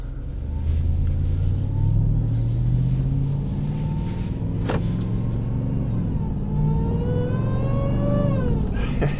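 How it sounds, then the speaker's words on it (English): A RAM TRX pickup fitted with a JMB intake idles with a steady, close supercharger whine over a low engine rumble, the whine edging upward in pitch toward the end. No one speaks. "even just at idle, it's got a different tone just to that supercharger whine just sitting there"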